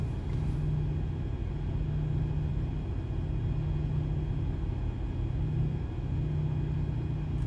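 A big rig parked alongside at a Love's Truck Stop in Brush, Colorado idles with a steady, low diesel rumble that holds unchanged throughout, a constant close drone with no talk over it.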